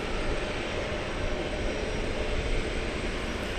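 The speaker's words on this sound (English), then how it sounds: "We've got a American Airlines flight going out to London town." An American Airlines Boeing 787-8 Dreamliner jet departs DFW Airport at night for London Heathrow, its engine roar a steady, broad rumble that holds at constant loudness throughout with no voices.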